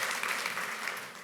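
A live audience at a tech conference stage session claps together for a volunteer, a brief, dense burst of applause that fades slightly at the end.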